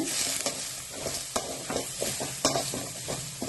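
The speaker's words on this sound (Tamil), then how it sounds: "அதை போட்டு 2 கிண்டி கிண்டிக்கலாம்." Grated coconut being stirred in a frying pan for curry leaf chutney, a steady close sizzle with repeated scraping strokes of the spatula across the pan, no talking.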